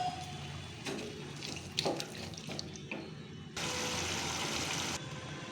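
A quarter cup of water poured into a pan of jackfruit seeds with turmeric, coriander powder, chili powder and salt: a few short splashes, then a steady close pour for about two seconds, with no talking.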